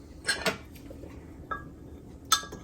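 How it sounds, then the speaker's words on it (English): A utensil scrapes and clinks against a pan while stirring garlic sauce ingredients with oyster and hoisin sauce, in three or four short, separated knocks over near silence. "I'm going to stir that up some"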